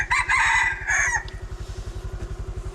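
A rooster crows loudly and close by in the forest countryside near Muang Song Khon, one long strained call, followed by a steady rhythmic engine putter underneath.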